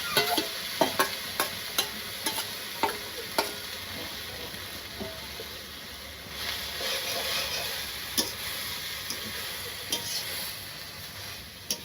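Leafy greens being stir-fried in a pan in a village kitchen: a steady sizzle throughout with sharp, repeated scrape-and-clack strokes of a spatula against the pan, close and fairly loud, no voices.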